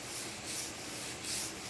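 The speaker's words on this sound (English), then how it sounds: "Now she's going to take her steel wool to get that out of it" Steel wool scrubbing semi-paste stripper off a maple wood furniture leg, a steady close abrasive rubbing with slight rhythmic swells as strokes go back and forth.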